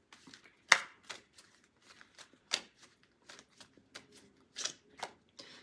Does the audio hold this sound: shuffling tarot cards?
yes